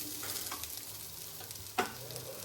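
Potatoes fry in a pan with a soft, steady sizzle, faint and close, broken by a couple of brief stirring scrapes and no talking.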